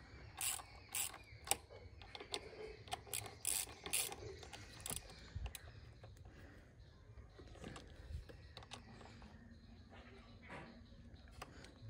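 A ratchet clicks in quick bursts while disc brake pad bolts are tightened on an Xpulse 200 4V motorcycle, close and fairly loud at first, then quieter handling and scraping.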